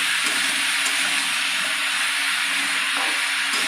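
Onions sizzle and hiss steadily in a hot pan as they are stirred, a continuous loud frying noise with no pauses and no one talking.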